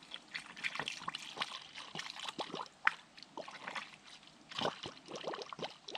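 Old coolant trickles and splashes steadily as it drains out of a Can-Am Commander radiator, a continuous liquid dribble with scattered drips, fairly quiet and close, with no voices.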